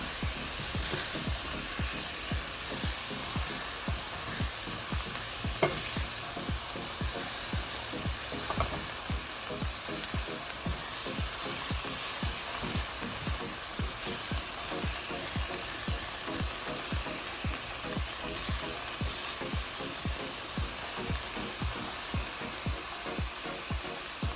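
Onions fry in a pan for curried chickpeas, with a continuous loud sizzle and a steady, rhythmic scraping of a utensil stirring them throughout.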